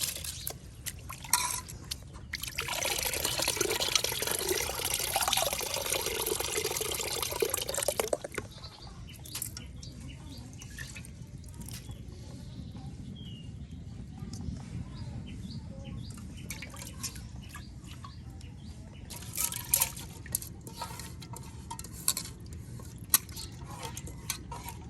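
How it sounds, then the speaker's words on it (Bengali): Rice being washed by hand in a pot of water outdoors in a village kitchen: a loud stretch of sloshing and splashing, then quieter swishing and dripping, with faint birds chirping in the background. "এই যে এখন চাল চাউলগুলো পরিষ্কার করে নেওয়া হচ্ছে"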